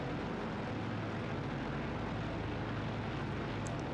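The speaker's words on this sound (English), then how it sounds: "It's a noisy old plane, this." Boeing 247D propeller airliner engines, a 1935 classic, in a flight simulator: a loud, steady, continuous drone with deep low rumble filling the whole stretch, no talk over it.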